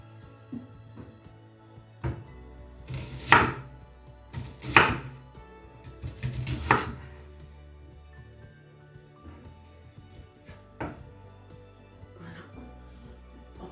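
Onions chopped with a knife on a cutting board: a few distinct loud chopping strikes in the first half, then softer scattered cuts, with a voice talking in between.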